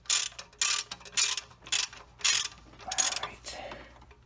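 A hand ratchet turns a 19mm socket on a Nissan 300ZX engine, about eight short bursts of clicking in a steady back-and-forth rhythm, close and clear.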